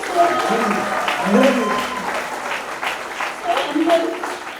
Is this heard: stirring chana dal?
no